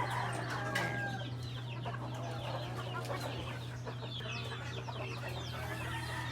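Several native chickens cluck and chatter continuously at close range over a steady low mechanical hum, with a few louder squawks near the start.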